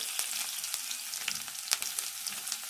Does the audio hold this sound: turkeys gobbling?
no